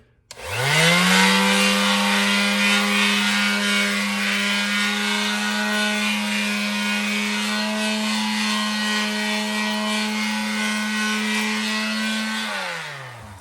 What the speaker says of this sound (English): I like using the palm sander